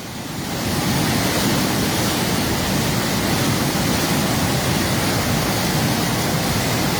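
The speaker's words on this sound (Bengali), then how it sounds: "পানির কি শব্দ আপনারা শুনতে পাচ্ছেন" Khowai river water roars through a breached embankment in Habiganj, a loud, dense, unbroken rushing wash that swells in during the first second and then holds steady with no voices.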